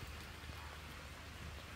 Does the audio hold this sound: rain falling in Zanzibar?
yes